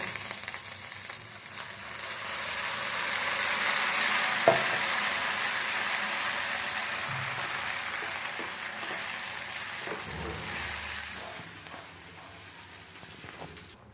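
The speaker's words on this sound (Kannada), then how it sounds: "ಈರುಳ್ಳಿ ಸ್ವಲ್ಪ ಫ್ರೈ ಆಗಲಿ" Onions and a ground spinach paste fry in a pan for palak rice, giving a steady, moderately loud sizzle with occasional stirring scrapes. No one speaks.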